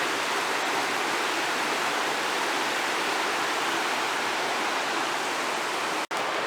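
Creek water rushing along the Breakneck Falls trail near Eckert Bridge, a dense, steady broadband roar with no breaks, loud and close, holding constant.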